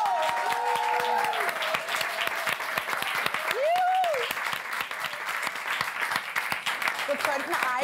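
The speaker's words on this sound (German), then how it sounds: "Dein Applaus gerne." A studio audience on a late-night talk show gives dense, sustained applause, with voices and whoops mixed into the wash of clapping.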